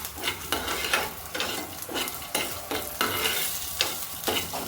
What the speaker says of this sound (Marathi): इथे थोडंसं जिरं घातलं आणि हे आता आपल्याला मस्तपैकी भाजून घ्यायचं आहे